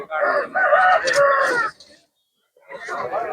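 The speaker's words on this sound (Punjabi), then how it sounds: "ਮੁਰਗੀਆਂ ਮੁਰਗੇ" Loud, close crowing and clucking from chickens and roosters at a livestock market in Maur, Punjab, coming in long harmonic calls with a brief pause before another begins.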